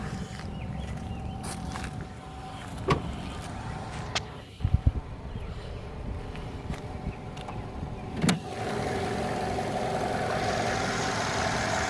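Engine of a 2017 Nissan Rogue SV AWD idling with the hood open, a steady low hum with a few clicks and a sharper knock partway through.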